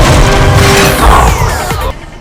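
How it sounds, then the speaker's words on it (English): A movie-effect crash of a car dropping from a high school gym ceiling onto a kid: a loud, brief smashing impact with a sweeping rush, over in about two seconds. "he just randomly drops cars on kids?"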